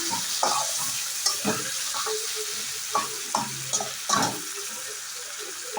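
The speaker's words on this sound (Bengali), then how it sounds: "মাথাটাতে একটু লবণ দিয়ে দেবো এটা ভাজা হোক" A fish head seasoned with salt fries in hot oil, sizzling steadily close by, with a utensil stirring and scraping the pan in several short bursts.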